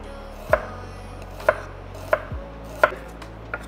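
A knife chopping onion lengthwise into strips on a cutting board, five crisp separate knocks about a second apart, close and alone in a quiet kitchen.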